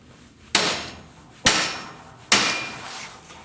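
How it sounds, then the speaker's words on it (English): Three sharp, ringing whacks from a 4-pound hammer driving a rivet against a held anvil, spaced almost a second apart, each decaying quickly into a quiet room. "it's a matter of 3 good whacks with this 4-pound hammer"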